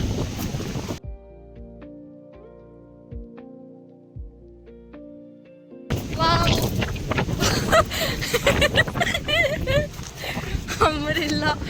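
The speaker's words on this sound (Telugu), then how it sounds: "గాలి మాత్రం మామూలు రావట్లేదు." Strong wind roaring on a hilltop at Matheran echo point, heavy gusts buffeting the microphone after a quieter stretch with tonal background sound, loud and continuous, with people talking over it.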